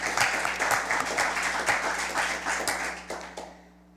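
A small audience at a junior science quiz applauds a school team, a moderate burst of individual claps with distinct slaps that thins out and fades to silence near the end.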